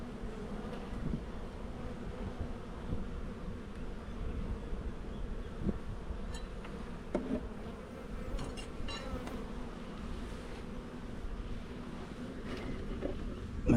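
Honeybees buzzing around an open hive during a nuc install, a steady dense hum heard outdoors with faint wind and light handling noises, no talking.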